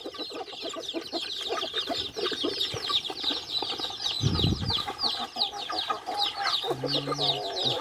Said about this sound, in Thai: หมูไก่ตีกัน